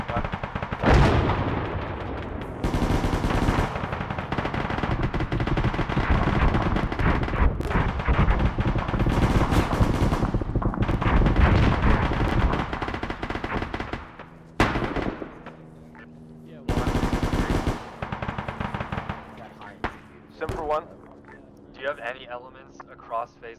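Heavy bursts of gunfire and booming weapon fire from an armored assault on an airfield, loud and dense for long stretches, with radio voices talking between and over the shots.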